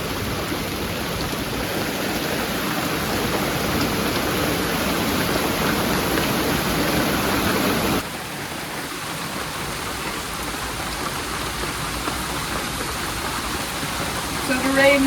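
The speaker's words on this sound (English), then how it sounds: "So the rain is very bad right now." Heavy rain pours down in a steady, dense hiss that stays loud throughout, dipping slightly partway through, heard while sheltering with horses.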